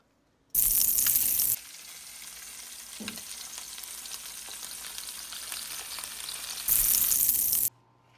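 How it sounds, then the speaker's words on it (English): Short ribs browning in a hot pan for a quesabirria grilled cheese, a steady broadband sizzle running throughout, louder bursts at the start and end as the meat is moved or the lid shifts. "we're going to get those short ribs browned up on all sides"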